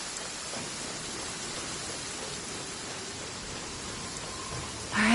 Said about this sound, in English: Let us find shelter from the rain.